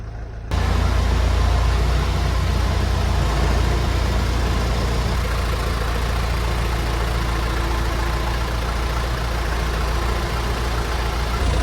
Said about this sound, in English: that engine is running like a mouse chewing paper. Just listen to it.